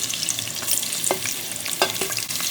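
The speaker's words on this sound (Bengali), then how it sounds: "সামান্য পেঁয়াজ কুচি দিয়ে দিলাম" Chopped onion fries in hot oil in a wok for chicken bhuna, with a close, steady crackling hiss broken by a few sharp spoon or spatula knocks against the pan.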